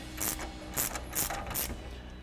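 A 7/8 socket ratchet tightening the strut nut on an adjustable front strut for a 2015-2026 Ford Mustang, giving four short bursts of ratchet clicking spaced about half a second apart, fairly close, with no talk.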